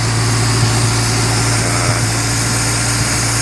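A 1974 Ford Pinto wagon with a rebuilt 2.3 liter engine and MagnaFlow exhaust idles close by, a loud steady rumble with an even low hum and no change in pace.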